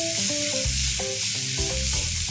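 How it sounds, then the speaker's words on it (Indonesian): Smoked beef and mushrooms sauté in a pan for a mushroom spinach tortilla wrap, giving a steady close sizzle with bright hiss and low rhythmic scraping, while soft background music plays under it throughout. "Masukkan smoked beef dan jamur. Tumis bareng sampai jamurnya berubah warna."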